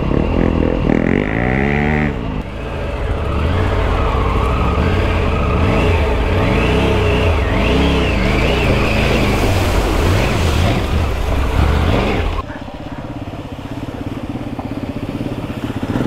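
2023 Triumph Tiger 900 Rally Pro motorcycles cross a creek on a Smoky Mountain ride: loud, close engines rev and wind up through the water, with broad rushing splash and wind noise that drops off sharply near the end.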